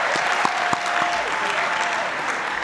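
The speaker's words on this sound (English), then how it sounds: "Give yourselves a round of applause." Steady applause from a crowd of graduating MBA students and guests at a 2017 business school recognition ceremony, dense continuous clapping filling the hall throughout.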